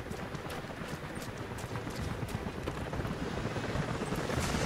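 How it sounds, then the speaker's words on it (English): A helicopter's thumping rotor chops along steadily beneath a dense wash of game noise from Rise of the Tomb Raider, loud and continuous throughout. "helicopters are headed your way"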